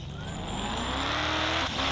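A car drives hard in the video game Dude Theft War, its engine roaring loud and close with a skidding tire squeal, and no voices.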